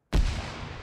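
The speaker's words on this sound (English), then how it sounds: "Who the fuck is throwing grenades?" A single sharp grenade explosion in the Arma 3 military game, a sudden loud boom with a deep low thump that decays into a long rumbling tail.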